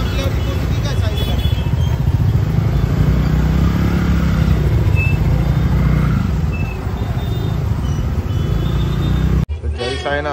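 Dense road traffic on the way to Malvani, a steady close rumble of cars, motorbikes and heavier vehicles that runs the whole time, with voices mixed in before it cuts off abruptly near the end.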